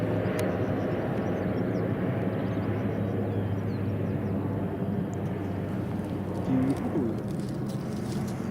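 An Aer Lingus airliner at Glasgow Airport produces a steady distant engine rumble, with birds cooing and chirping faintly in the foreground.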